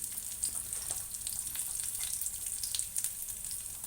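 Asafoetida and turmeric sizzle in hot oil for a peanut-mint chutney tempering, a bright, crackling fizz that stays constant and close for a few seconds, with no speech.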